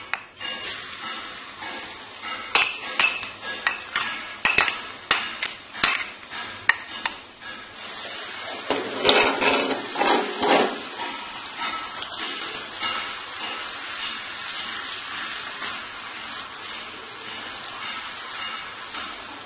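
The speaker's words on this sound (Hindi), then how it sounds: "हम इसमें प्याज ऐड करेंगे।" Grated onion dropped into a hot pan, a burst of scattered clinks and taps from a utensil, then a surge of frying hiss that settles into a softer, continuous sizzle, close and without speech.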